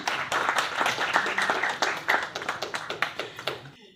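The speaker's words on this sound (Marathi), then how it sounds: "अरे टाळ्या कमी पडतायत कम ऑन" Audience applause at a Marathi film promotion event, brisk clapping that thins toward the end into a few distinct, evenly spaced claps before fading out.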